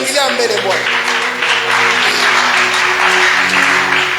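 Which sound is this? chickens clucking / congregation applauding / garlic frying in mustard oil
congregation applauding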